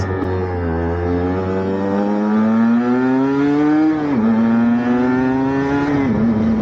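A 125cc two-stroke Aprilia RS 125 motorcycle engine revs loudly and steadily, its pitch climbing, dipping briefly near the end of the run, then rising again, close by.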